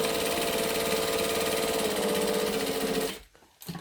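A sewing machine stitching down fabric edges, running in a steady, rapid mechanical buzz for about three seconds before stopping abruptly.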